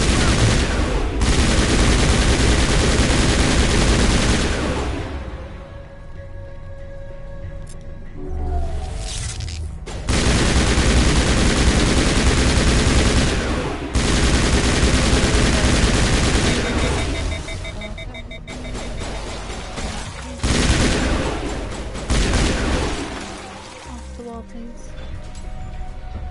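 Sustained bursts of gunfire from the Mass Effect video game, rattling in loud volleys with short lulls between them, mixed with game sound effects and some voices.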